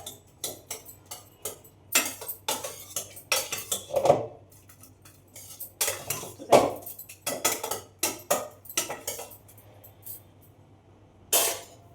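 A spoon or masher repeatedly pressing and scraping cooked tomato and carrot in a metal pan, sharp clinks and scrapes in an irregular rhythm, close and fairly loud, with no talk.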